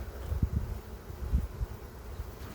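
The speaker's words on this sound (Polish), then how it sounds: "Niestety jedna pszczoła, że tak powiem, postanowiła mnie zaatakować." A low, wavering buzz of bees hums close by, rising and falling in loudness with no voices.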